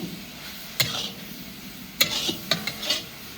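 Grated carrots for gajrela are stir-roasted in desi ghee, a few sharp scrapes and clinks of a spoon against the pan over a faint sizzle, close up with no voices.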